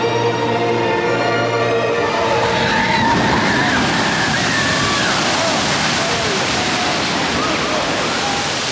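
Water crashing and splashing in the splash zone of the River Adventure ride at Universal Orlando, a loud, dense roar of spray that builds after a brief lull and stays close and continuous.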